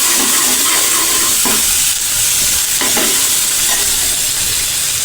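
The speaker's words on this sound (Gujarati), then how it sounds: "ચમચી વડે હલાવી લઈશું" Steady loud sizzle of damp onions frying in oil with turmeric in a pan, with a spoon scraping and stirring a few times through the hiss, oil spattering.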